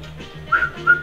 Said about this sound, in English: Hey, whistles!